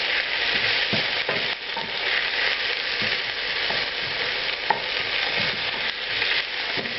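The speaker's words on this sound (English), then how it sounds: "add a teaspoon of cumin seeds to it. You're going to cook these for" Cumin seeds fry in hot ghee in a pan, giving a steady, close sizzle throughout with small crackles and pops and the odd stirring scrape, with no talking.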